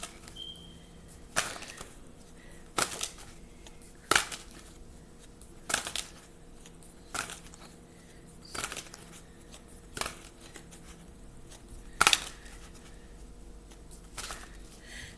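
Tarot cards are shuffled repeatedly in short riffling bursts, each a quick crisp flutter, spaced about a second or so apart against a quiet background.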